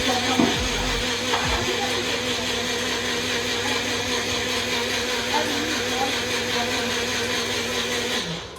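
A blender runs steadily for the whole stretch, a dense continuous whir with a brief low thump near the start, loud and close with no talking over it.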